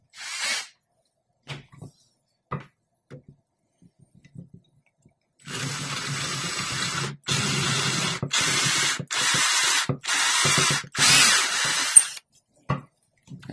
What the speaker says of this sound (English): And doing it with a hand drill, it wobbles a little bit.